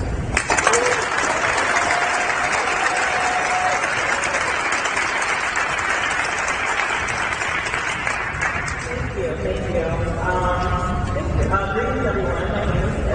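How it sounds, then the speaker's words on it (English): Audience applause and clapping for a speaker at an event, a dense steady roll of clapping that holds for most of the stretch, with faint crowd murmur and some background voices toward the end. "please give her 2 rounds of applause for everything she makes happen"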